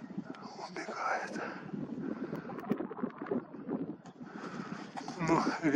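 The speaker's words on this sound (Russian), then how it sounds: "Ну, ветер будет так камеру колебать." Steady wind buffets and rumbles against the microphone, gusting louder at times, with faint voices underneath.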